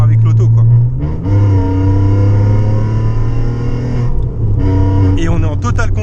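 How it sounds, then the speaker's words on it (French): Alfa Romeo 147 GTA on a cold road test, its engine droning loud and steady from the cabin with rising and falling revs as the throttle is reapplied, a brief lift near the start and another near the end. "Quand on remet les gaz, l'auto se verrouille bien."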